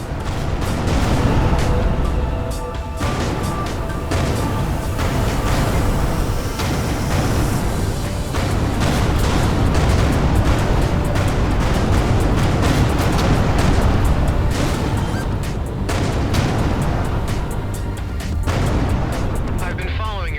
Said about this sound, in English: Vacate this area at once. Explosion imminent.